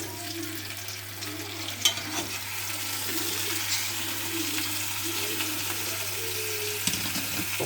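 Lamb searing and browning in a hot pan in a restaurant kitchen, a steady broadband sizzle with faint clinks and stirring noises, close and continuous.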